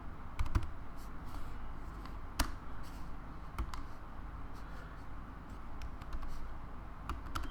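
Computer keyboard typing while writing Swift code in Xcode: scattered, irregular keystrokes over a steady low hum of background noise, with a few sharper taps standing out and no speech.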